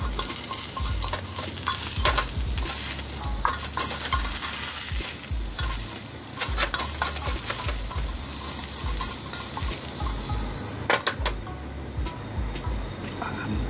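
Lamb for Genghis Khan sizzles in a pan while being stirred, a close crackling fry with repeated scraping and clattering strokes of a utensil against the metal.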